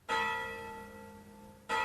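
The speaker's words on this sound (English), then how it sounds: "There's the bell." A bell rings out clearly, one long sustained tone that slowly decays before a second strike sounds near the end, moderately loud, with no talking.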